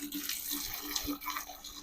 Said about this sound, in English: if I turn this hose on, that'll kick in.